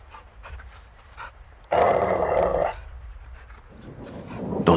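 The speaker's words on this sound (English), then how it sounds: "See the caged dog?" A caged dog in Call of Duty Modern Warfare 2 lets out a low, rough growl with a short louder snarling burst in the middle, close up and alone.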